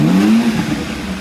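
A stock-exhaust BMW M car engine revs once at close range, a strong low tone rising in pitch and then easing off into a steady idle-like hum.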